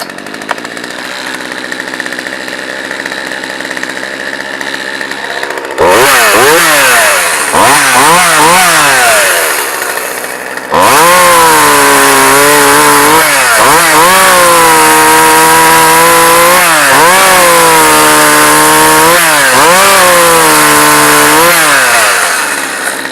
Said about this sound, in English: So I'm going to cut this little piece of wood here and show you how it runs.